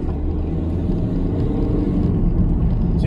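A car in first gear pulls away from a junction and accelerates, its engine a steady close rumble that swells slightly toward the end, heard from inside with no talking.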